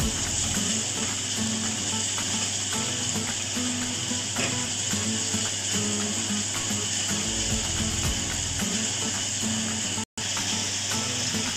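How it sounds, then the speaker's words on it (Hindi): Onion, garlic and ginger-garlic paste frying in a kadai, giving a steady, dense sizzle that holds at an even level throughout with faint clicks and scrapes inside it. "जिंजर गार्लिक पेस्ट भी डाल देंगे, देखिए मैंने पेस्ट भी डाल दिया है। बहुत अच्छे से हम फ्राई कर लेंगे।"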